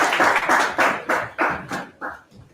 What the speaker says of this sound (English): We can do better to give them a round of applause.